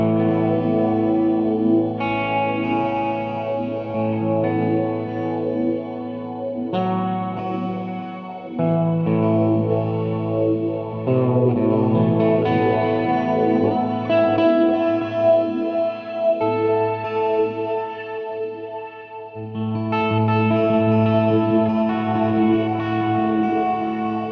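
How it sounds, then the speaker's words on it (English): Electric guitar through a Mooer Ocean Machine pedal set to filtered reverb and tri-modulated delay plays sustained, shimmering chords with long washy trails and wobbling repeats, loud and continuous with no talking. "add something else kooky to it, like a filtered reverb and a tri-modulated delay"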